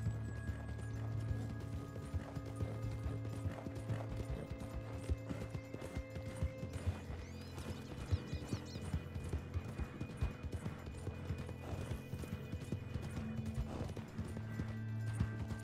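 Hooves of a horse galloping in Red Dead Online, a fast continuous clip-clop with jingling tack and occasional gear noises, moderately loud and without talk.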